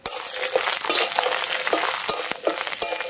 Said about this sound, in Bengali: কড়াইতে দিয়ে দেবো সর্ষের তেল, শুক্তোতে বড়ি দেবো